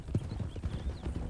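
Horse hooves clip-clop in Red Dead Redemption 2, a soft steady run of close hoof falls with low rumbling game ambience underneath.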